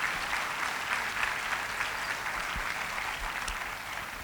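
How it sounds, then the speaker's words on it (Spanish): A church congregation claps together, a steady, moderately distant patter of many hands filling the room for several seconds, fairly soft and even with a couple of low thumps. "Dele usted un aplauso al Señor."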